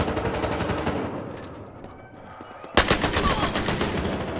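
HK-51 rifle firing in Battlefield Hardline's Bank Job map, gunshots in rapid bursts with a sharp loud volley starting partway through, layered over game background noise.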